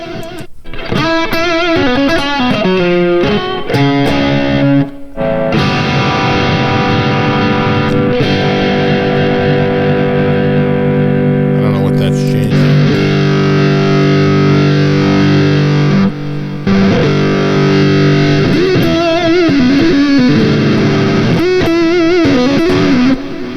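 Electric guitar played through a Flamma FX150 multi-effects floor unit preset, heavily distorted and effected, sounding loud and continuous with sustained chords and shifting tones, playing alone without talk.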